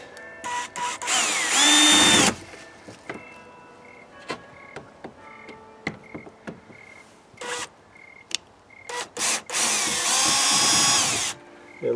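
A cordless power drill drives screws into a wooden shed door during a repair, with two long whirring runs at the start and end and scattered short trigger bursts and clicks between them, close and loud.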